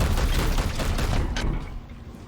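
Gunfire in the video game Chaos Gate rattles loudly as a dense burst of shots for about a second and a half, then tails off into a fading echo.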